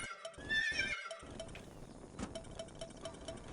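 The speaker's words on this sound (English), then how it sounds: "the sound that this thing makes is the horse sound" A horse-like whinny from the Rayman 2 video game, a short loud neigh near the start followed by quieter clopping, thumping game sounds.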